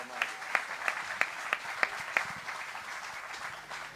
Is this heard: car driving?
no